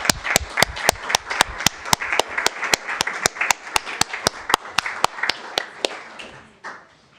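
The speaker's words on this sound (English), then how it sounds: "Could we please have a round of applause?" Sparse applause at a city council general meeting honouring a King's Birthday honours recipient: a small group claps in a steady, evenly spaced rhythm, each clap distinct and close, fading out at the end.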